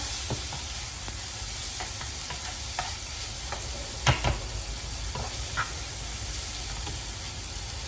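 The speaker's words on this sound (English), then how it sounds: "my onions and my chicken is back it's in the frying pan, and I'm just, you know, mixing it all together" Steady loud sizzling of chicken and onions frying in a pan, with occasional scraping clicks of stirring, close and continuous.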